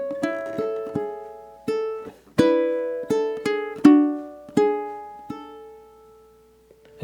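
Ukulele picking bars seven and eight of a syncopated etude, a handful of bright plucked notes and chords in an off-beat rhythm, each ringing and decaying cleanly in a quiet room.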